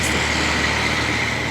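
Trucks hauling loads of fill dirt rumble past on a dusty road, a steady loud engine drone with a faint high whine, no voices.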